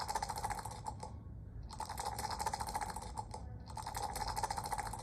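Three players share one computer keyboard while playing the LCR dice game, producing dense, rapid clicking keystrokes in three bursts separated by short pauses, close and fairly loud with no talking.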